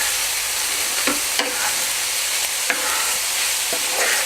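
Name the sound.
onions frying and being stirred in a pan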